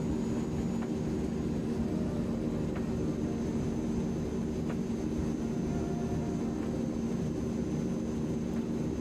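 Steady droning engine hum of a Transall C-161 transport aircraft in Microsoft Flight Simulator 2020, flying around Norway, continuous and even throughout with no speech.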